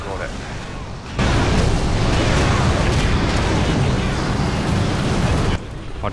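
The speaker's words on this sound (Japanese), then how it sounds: "なんかど真ん中で爆発した" An explosion in the middle of a World of Warcraft raid against Heroic Galakras sets off a loud, dense roaring blast that lasts about four seconds before cutting off abruptly.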